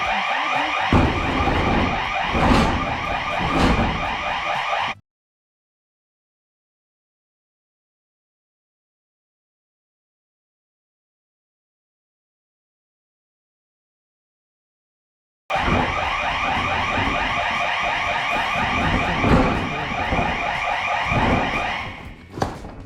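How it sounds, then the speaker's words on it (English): A loud electronic alarm blares inside a storage unit, a continuous harsh tone that cuts out abruptly for about ten seconds and then resumes just as loud until the end. "There goes the alarm."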